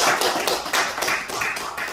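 Clapping from a church congregation at a political sermon, a dense burst of hands struck in quick rhythmic pulses, close and loud, lasting about two seconds with no talking.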